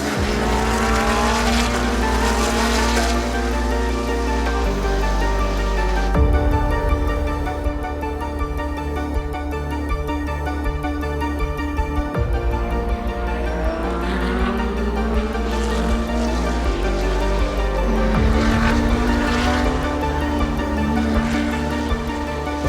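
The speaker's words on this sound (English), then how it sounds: "Charles Ritz takes the wheel of the R8 for the first time since he was appointed an Audi Works driver" An Audi R8 race car lapping quickly, its loud engine howling close by through repeated upshifts and downshifts with rising and falling revs, tyres squealing at times through corners.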